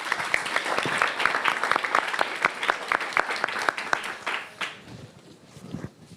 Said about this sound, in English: Let's give a big round of applause for our speakers.